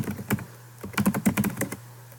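Fingers type a name on a computer keyboard in a quick, uneven run of close, crisp key clicks, clustered into bursts with short gaps and no talking.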